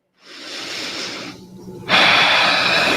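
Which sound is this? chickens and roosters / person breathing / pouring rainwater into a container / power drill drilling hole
person breathing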